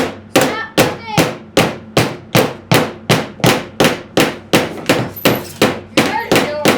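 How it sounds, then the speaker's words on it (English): Hammers pound on wood in a steady, evenly spaced run of about sixteen sharp, loud strikes, each ringing briefly before the next, with no talk over them. "let's all hammer at sync."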